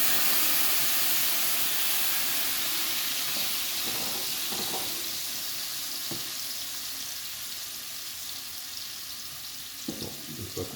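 A pan sizzling as it is deglazed while making carbonara sauce, a steady steaming hiss that slowly fades, with a few soft clinks and scrapes near the end.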